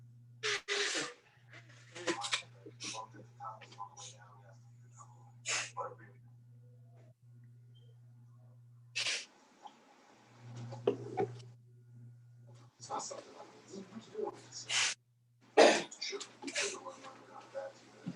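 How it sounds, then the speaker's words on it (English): A person blows their nose in several sharp, breathy honks and snorts, spread in bursts across the stretch over faint background hum, with short pauses between them. "I gotta blow my nose."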